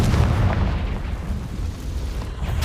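Loud, continuous explosive roar from a Confringo blasting spell in Hogwarts Legacy, a heavy low rumble sustained for a couple of seconds without pause.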